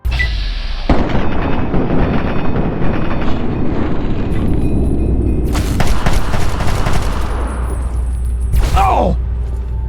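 Loud, continuous combat in Fallout 3: dense bursts of gunfire and booming explosions fill the whole stretch, with sharp crackling blasts and a voice shouting over the din.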